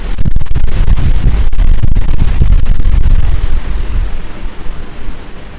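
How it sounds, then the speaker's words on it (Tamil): Strong wind gusts buffet the microphone on a rainy evening among trees in Idukki, Kerala, loud rumbling bursts that roar continuously then ease slightly toward the end, with no speech. "தெரியுதா எப்படி காற்று அடிக்குதுன்னு?"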